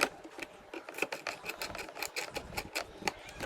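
A screwdriver tightens small screws while a laptop is disassembled, giving a quick run of close, dry clicking and scraping strokes in a steady rhythm with no talk.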